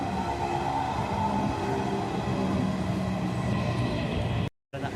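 Steady rumble and rattle of the Tiruvannamalai to Tambaram express running along the track, heard continuously from on board, with a brief dropout near the end.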